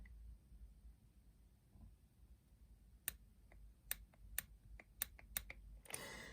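A Tekton 1/4-inch drive torque wrench gives a string of sharp, crisp clicks, about eight of them at irregular spacing, close up and quiet against a hushed room, ending in a brief rustle.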